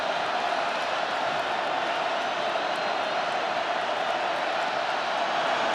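College football stadium crowd at Tulane Green Wave vs Cincinnati Bearcats, a loud, continuous wall of roaring cheers and noise, steady throughout with no breaks.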